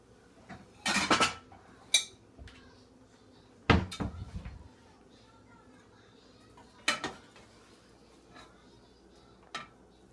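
A plate taken from a kitchen cupboard: a few sharp clacks and knocks of the cupboard and dishware, spaced apart with quiet gaps between them.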